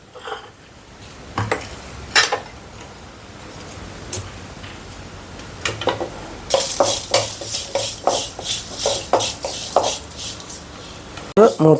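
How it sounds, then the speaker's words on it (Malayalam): Dried red chillies roasting with a drop of oil in a pan for prawn chutney: a quiet start, then repeated scraping and clinking stirs that grow busier and more rhythmic toward the end, with faint frying underneath. "ഒരു തുള്ളി എണ്ണയും കൂടി ഒഴിച്ച് നമുക്കതൊന്ന് വറുത്തെടുക്കാം."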